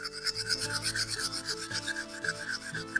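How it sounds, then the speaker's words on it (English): Rough rhythmic scraping as rust is cleaned off the rusted brake disc hub of a 2009 Subaru Justy during a summer tire swap. Steady back-and-forth rasping strokes, close and fairly loud, with no talking. "You can see how rusted the surface is, so again, have to clean it up"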